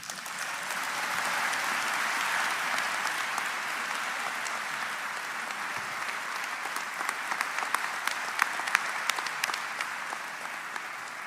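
A graduation ceremony audience claps steadily for a speaker, a dense, even wash of applause that holds at the same level throughout with no voices over it.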